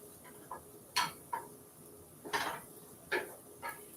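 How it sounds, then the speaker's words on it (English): Black beans are stirred in a pot, giving a handful of quiet spoon clinks and scrapes against the metal at an uneven pace over a soft background. "So let's stir the beans."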